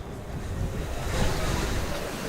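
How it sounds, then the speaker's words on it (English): Strong, gusty wind at a baseball field on a chilly afternoon, roaring steadily across the microphone as dense, continuous rumbling noise with no voices. "A little chilly, a little windy. Well, very windy, actually."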